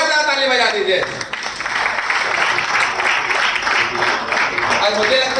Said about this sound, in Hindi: मैं चाहूंगा आपके लिए एक जोरदार ताली बजा दीजिए।